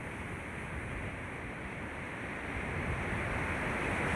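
Large sea waves crash and surge in a steady roar of broadband surf, building slightly louder toward the end with no voices.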